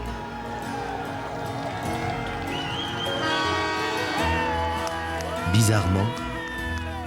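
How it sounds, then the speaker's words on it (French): A harbour crowd cheers and shouts for a solo sailor returning after a round-the-world voyage, continuous shouting and whooping with horns sounding, while a narrator speaks over it. "les applaudissements et les cris"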